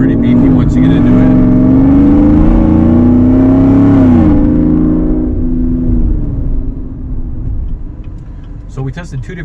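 A 2018 GMC Yukon Denali fitted with a Katech Whipple supercharger and Corsa exhaust accelerates hard with a loud, rising engine roar and supercharger whine close by, then backs off and fades toward the end.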